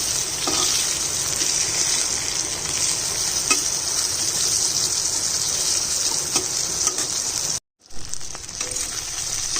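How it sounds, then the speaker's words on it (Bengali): Long-cut eggplant slices fry in hot oil with a steady, close sizzling hiss that carries on evenly, with a few faint clicks, then drops out briefly to silence before the sizzle resumes. "লম্বা লম্বা করে বেগুন কেটে নিয়েছি বেগুনটাও ভেজে নিচ্ছি"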